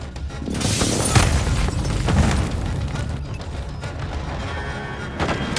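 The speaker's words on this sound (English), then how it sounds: "Hostile precision airstrike." Precision airstrike in Call of Duty: Modern Warfare II multiplayer, with loud rolling blasts and booming impacts that swell and overlap, then settle into a continuous low rumble with a few further bursts.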